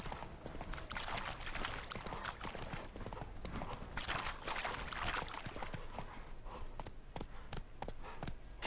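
Roach, a horse in the video game Witcher 3, galloping with a fast, continuous clip-clop of hooves under rushing wind, loud and close.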